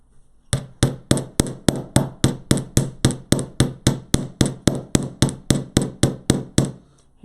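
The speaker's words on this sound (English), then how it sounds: "I am forging that wire so it moves a little bit, so it has a little bit of shape" A hammer strikes wire on a hard surface while the wire is forged into a slight shape for a tree-of-life craft piece: about twenty sharp, ringing blows in a steady, even rhythm, close and loud.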